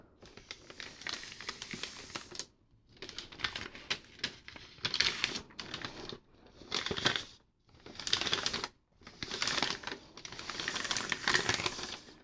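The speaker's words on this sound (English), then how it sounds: "also it already makes these nice crinkly sounds" Printer paper crinkling and crumpling up close in repeated bursts, with short pauses between bouts of rustling.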